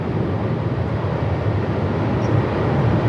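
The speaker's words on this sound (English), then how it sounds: "This is Qantas 620 heading off to Brizzy." A Qantas airliner on flight 620 departs Melbourne Airport in strong wind. It gives a steady, broad jet roar at moderate distance that holds constant throughout.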